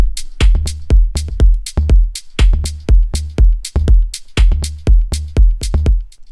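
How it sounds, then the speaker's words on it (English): An organic house drum loop in Ableton with an electronic tom repeating in a short 1-bar pattern over kick and hi-hats, a loud, close, steady groove with no speech. "Then we come to the tom sound"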